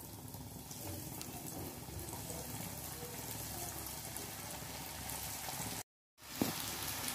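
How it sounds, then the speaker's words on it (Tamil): Oats potato balls deep fry in hot oil, a steady close crackling sizzle with a short break and a brief clatter near the end. "இப்போ பார்த்தீங்கன்னா நல்லா எண்ணெயில் வந்து பொரிஞ்சிட்ருக்குது."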